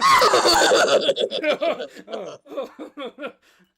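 On an improv comedy stage, a performer vocally imitates a horse's whinny, a loud neigh that breaks into a shaky, descending series of short bursts and trails off.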